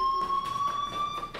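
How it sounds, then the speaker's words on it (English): A fire alarm rings inside the Life is Strange video game, a steady, loud electronic tone with bright harmonics that holds unbroken for the whole moment, with faint pulsing behind it. "do you hear that fire alarm? That means you should be outside."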